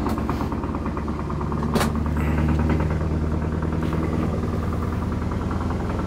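A truck's steady, low rumbling engine idles throughout with a rhythmic mechanical chug, and a brief sharp knock partway through; no talking.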